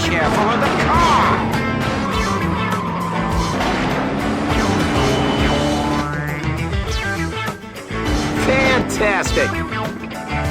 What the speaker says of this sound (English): Be careful of the car!